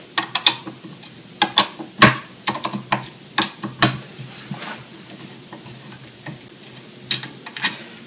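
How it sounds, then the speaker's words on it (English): Hex end cap screws being backed out of a three-blade Max-Prop feathering propeller, giving a run of close, sharp metallic ticks and clicks in irregular bursts, with a quieter gap in the middle. "And you want to take off the 6 end cap screws that hold the propeller together."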